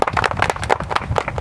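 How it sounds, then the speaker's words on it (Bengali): A round of applause for the winner of a balloon-popping game, with several people clapping in quick, uneven bursts close by. "একটা করতালি হয়ে যায়।"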